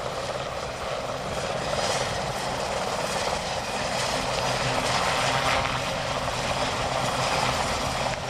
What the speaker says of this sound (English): we have a genuine Falklands veteran aircraft flying in the display